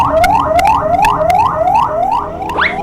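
A cartoon ambulance siren wails in rapid rising sweeps, repeating about every half second, loud and close, with no talking over it.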